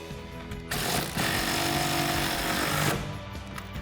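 A power tool runs down a nylon lock nut with a 9/16 deep socket while a vinyl tonneau cover is installed on a 2009-2018 RAM 1500, a loud, steady buzzing burst lasting about two seconds, close up.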